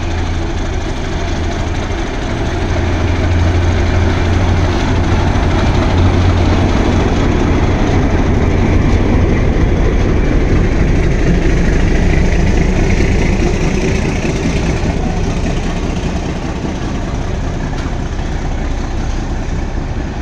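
A passenger train departs Joydebpur station bound for Kamalapur, a loud, continuous rumble of engine and rolling wagons that stays steady and close throughout, with no voices.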